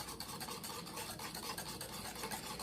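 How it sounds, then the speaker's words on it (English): Thick, clumpy cookie dough for double chocolate peppermint mocha cookies, glossy like caramel, is stirred steadily by hand, giving a continuous close scraping, rasping texture with no pauses or talk. "take about a minute and really just stir that in until that is perfection right there"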